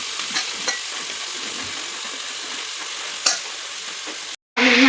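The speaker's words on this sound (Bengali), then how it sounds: "আমি চিকেনটা দিচ্ছি" Chicken pieces frying and being stirred in a pan for Bengali chicken curry, a steady close sizzle with a few scraping stirs and a brief clatter near the end.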